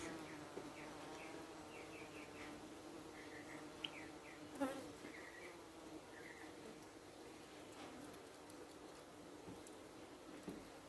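Honeybees buzz steadily around an open hive colony, a close, continuous drone with individual bees whining past and a few faint clicks, no talking.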